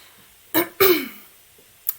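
A person ill with COVID-19 symptoms clears their throat and coughs in two harsh close bursts, then gives a short sharp cough after a pause.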